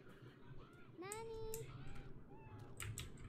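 A cat meows in the video game Beyond Eyes, one clear rising-then-level meow in the middle with a fainter one after it, over a soft ambient game background.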